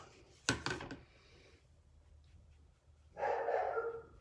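A dog barks indoors at home, a sharp burst of two or three barks followed by a longer, rougher bark-growl a few seconds later, fairly close and otherwise quiet between.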